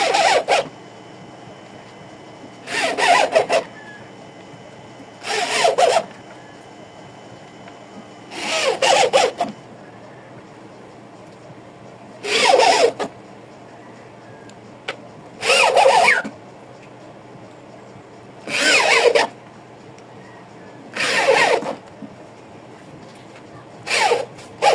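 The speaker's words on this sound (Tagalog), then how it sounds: "so lagyan na natin ng screw" Screws are driven into the cover of a bullet-style speaker box built for 12-inch midvocal speakers: eight short, evenly spaced bursts of whirring and grinding, separated by quiet pauses.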